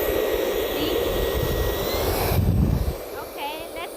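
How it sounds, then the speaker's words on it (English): A cordless 20V Li-ion multi vacuum cleaner runs at high speed with a loud, steady whining motor roar that shifts pitch partway through, while someone talks over it. "now I will show you the vacuum clean function"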